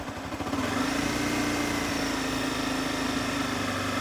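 A manual motorcycle engine pulls steadily as the throttle is eased open after an upshift into second gear, giving a continuous close droning hum with no talk.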